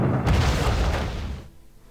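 An artillery unit firing in the war strategy game Panzer Corps gives one heavy, booming blast that rolls on and fades out within about a second and a half, loud and alone.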